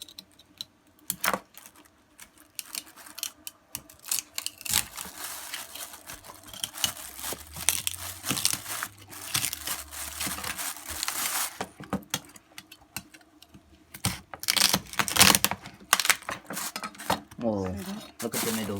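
Scissors cut through a live lobster's shell in repeated crisp snips and crunchy clicks, close up, with brief talk around the cutting.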